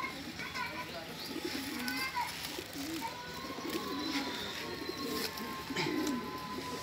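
A pair of pigeons coos softly in repeated low, throaty calls, with someone talking nearby and faint background chatter.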